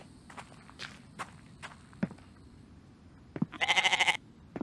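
A goat in the survival video game The Infected gives a short, bright bleat near the end, following a series of soft footsteps over faint ambient game sound.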